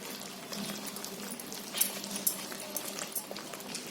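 Soaked lentil batter for sundried cabbage wadi is beaten by hand, giving soft, faint, wet slapping and squelching in an uneven rhythm, with no talking.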